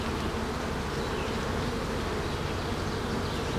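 Honeybees swarming around an opened main hive, a dense continuous buzzing from many insects close by, steady and unbroken throughout.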